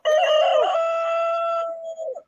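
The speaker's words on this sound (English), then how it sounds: "My chicken crow." A pet chicken crows once up close, a loud, drawn-out, strongly pitched call that falls away at the end, with a short clucking flutter after it and no talk over it.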